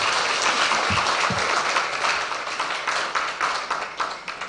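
A crowd at the Ghana Premier League partnership launch claps loudly and steadily, filling the whole clip, with the applause thinning slightly toward the end.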